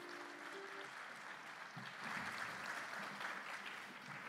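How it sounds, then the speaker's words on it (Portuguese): Audience applauding at a hypnosis stage show, a fairly faint, continuous spread of clapping that builds slightly midway, with a brief bit of voice or tone early on. "uma salva de palmas para os nossos astros."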